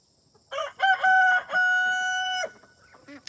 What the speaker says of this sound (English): I love the rooster call.